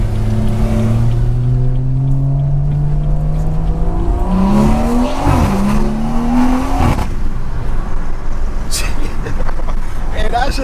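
A BMW 340i engine revs and accelerates close by, its rising tone sweeping upward through several gear pulls with a deep throaty drone, while someone talks excitedly over it.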